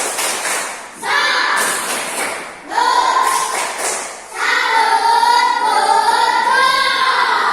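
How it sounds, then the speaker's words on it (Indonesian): A classroom of pupils performs the 'tepuk salut' clapping chant, with loud patterned group claps interleaved with children's shouted voices and chanting, building into a sustained vocal cheer at the end. "Kita semangat lagi. Tepuk salut."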